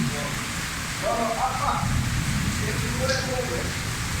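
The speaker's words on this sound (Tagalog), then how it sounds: "Lakas ng buhos ng ulan." A dense, steady roar of heavy rain pouring down during flooding in Dubai, loud and constant, with a voice faintly audible beneath it.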